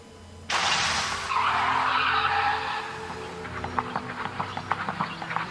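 A dramatized car with a flat tire skids to a stop, a sudden loud screeching slide that fades into a rhythmic flapping thump of the deflated tire rolling slowly.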